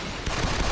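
Rapid machine gun fire from a mech's weapon in a vaporwave-styled mecha video game: a loud, dense, unbroken burst lasting under a second, with no voices over it.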